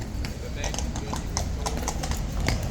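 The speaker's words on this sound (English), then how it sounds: "Clippy clopping all over the place." Horse hooves clip-clopping near the King's horse guard: many quick, irregular hoof strikes on hard ground, mixed with background crowd noise and a person talking over them.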